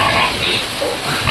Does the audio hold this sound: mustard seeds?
no